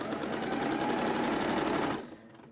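A sewing machine stitches across a dungaree bib in a steady, fast, continuous whirr that runs alone and close by, then stops abruptly near the end.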